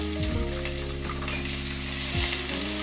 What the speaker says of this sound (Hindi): मीडियम फ्लेम पे पकाएंगे। हमको अनियन का कच्चापन जाना है, ब्राउनिश कलर नहीं।